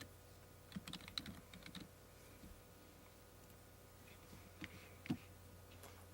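Clicks on a computer keyboard while a Windows file name is typed, in two short bursts of keystrokes separated by a pause. The typing is quiet and close against a low, steady background hum.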